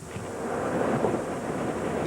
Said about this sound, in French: Plus de 6 heures de pluie aujourd'hui